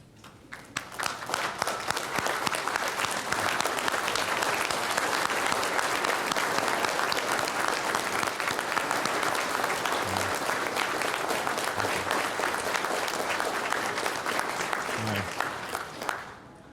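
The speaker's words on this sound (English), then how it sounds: "please stand and give a rousing hand of applause to our Korean brothers and sisters here present" A standing audience at a luncheon honoring Korean War veterans gives sustained, loud applause for Korean guests, a dense even wash of clapping that holds for over a dozen seconds before tapering.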